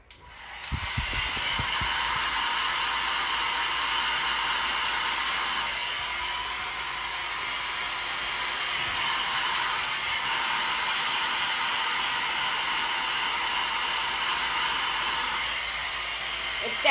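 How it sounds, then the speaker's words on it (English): A hair dryer blows on a glitter tumbler, giving a steady, loud, close airy roar after a brief start-up. The roar holds evenly for the whole stretch. "let me hit it with the hairdryer"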